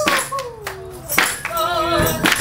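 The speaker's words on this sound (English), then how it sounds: "Clap your hands." Hands clap in sharp bursts at a tent revival, spaced irregularly through a few seconds, mixed with singing voices and crowd noise.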